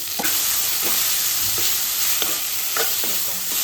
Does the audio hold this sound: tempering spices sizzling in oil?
yes